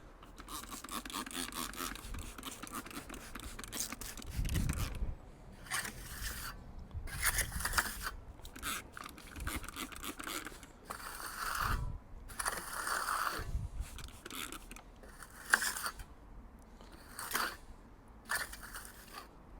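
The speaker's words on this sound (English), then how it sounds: "a nice clean trowel, and just polish up the surface" Clean trowel polishing the surface of a freshly laid refractory concrete pizza oven floor, close, faint rasping scrapes in irregular strokes with short pauses between them, and no talking.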